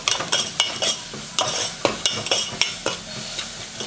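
Onion, turmeric and ginger garlic paste stirred and sautéed in a pan while cooking egg dum biryani: close, repeated scraping strokes of a spoon with a light sizzle underneath, no talking.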